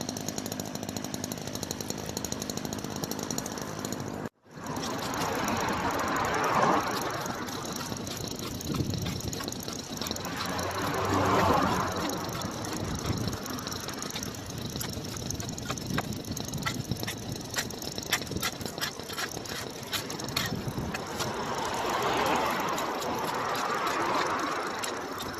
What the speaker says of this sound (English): trying to listen to the noise of the blade going down the side of the concrete